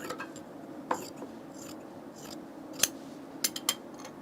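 Scissors snipping through fabric for a shirt being sewn, a few sharp, separate close cuts spread over a quiet room, with no talk.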